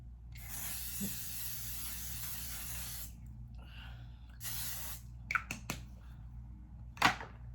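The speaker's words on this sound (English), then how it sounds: "This is the L'Oreal Inflammable 3-second setting mist." Two long hissing bursts of L'Oreal Infallible 3-second setting mist, close and steady, separated by a pause, followed by a few short clicks and light handling noises under a constant low hum.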